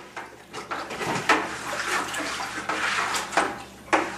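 Tap water with two tablespoons of washing soda in a two-gallon batch is stirred briskly by hand, giving irregular splashy sloshing bursts up close, for a rust-removal electrolysis bath.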